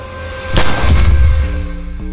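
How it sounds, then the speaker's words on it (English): A single loud gunshot from a Nollywood movie soundtrack booms and then rolls into a low rumbling tail, set over a steady background tone. "Gunshot."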